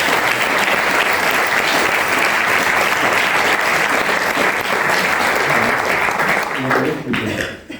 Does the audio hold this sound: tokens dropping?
no